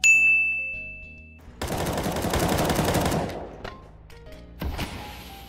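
Shotgun and rifle fire in Counter-Strike 2 matchmaking: a short ding, then a dense burst of loud gunfire lasting over a second, followed by quieter clanks and one more sharp shot near the end.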